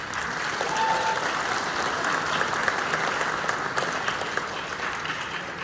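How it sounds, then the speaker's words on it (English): Steady, dense applause from an audience at a spring band concert, a broad wash of many hands clapping continuously at moderate loudness throughout. "Applause."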